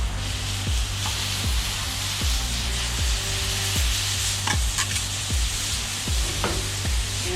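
Wild game burgers sizzle loudly on a hot griddle just after flipping, a steady close frying hiss with periodic scraping strokes of a spatula, no voices.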